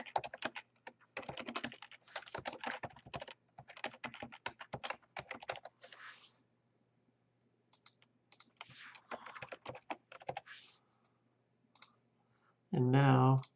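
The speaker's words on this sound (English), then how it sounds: "type in my address" Bursts of typing on a computer keyboard, quick irregular runs of light clicks with short pauses between them, close and fairly quiet, ending with a brief louder sound.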